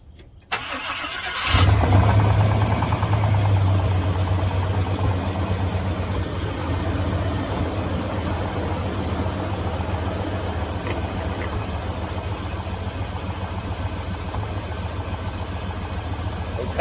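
A car engine cranks over and catches, then settles into a steady, fairly loud idle that runs for the rest of the stretch, heard while the vehicle is being checked for overheating.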